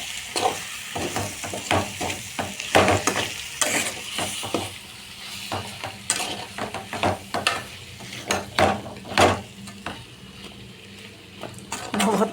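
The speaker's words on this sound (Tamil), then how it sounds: "இப்போ நல்லா சுத்தமாக சிக்கனை கழுவி வச்சுருக்கேன். அதை போட்டு கொஞ்சம் வதக்கிட்டேன்." Washed chicken pieces sautéing in a pan for homemade biryani, with steady sizzling and frequent scraping, stirring strokes of a spoon against the pan, close up, with no talking.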